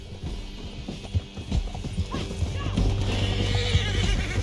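Horses gallop in Red Dead Redemption 2 during a chase, with pounding hoofbeats, a whinny and a dog barking, mixed with shouting voices and game action noise.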